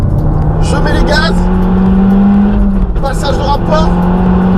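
A Peugeot 308 R Hybrid accelerates hard on track, its engine note climbing, then a gear change before it pulls again, loud and close with someone talking over it.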